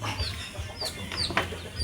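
Mother hens and their chicks clucking at close range, with repeated soft clucks and thin high peeping from chicks scattered through a low farmyard hum; no one speaks.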